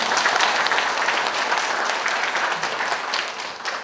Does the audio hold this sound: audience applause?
yes